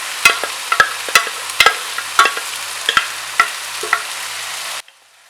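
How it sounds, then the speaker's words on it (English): Cooked basmati rice tipped into a pan of sautéed mushrooms and peppers for fried rice, giving a run of sharp spoon-against-pan clinks and scrapes over a steady low sizzle, close and fairly loud, stopping abruptly near the end. "Now to this I'm going to add the cooked basmati rice."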